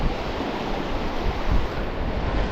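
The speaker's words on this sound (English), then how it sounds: "wind in my face here" Wind blows steadily on the coast at Folkestone Warren, a loud broadband rumble buffeting the microphone without a break, with surf-like roar beneath and no talk.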